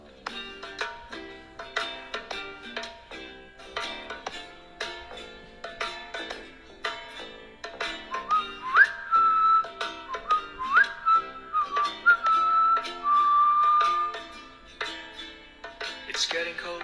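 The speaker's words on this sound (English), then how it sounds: "so here is the speaker test for you to judge" Music plays through the stereo speakers of a Poco M3 phone, a bright track with steady rhythmic beats and a whistled melody line in the second half, heard fairly clearly without talking.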